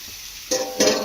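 Grated potato frying in oil in a covered pan gives a steady sizzle, with two louder hissing bursts near the end of the short stretch.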